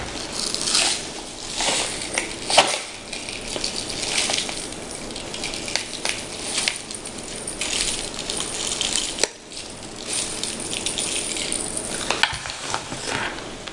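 A spoon mixes brown sugar into a homemade lip scrub, giving dense close gritty scraping and crunching that continues steadily with brief pauses, with no talking over it.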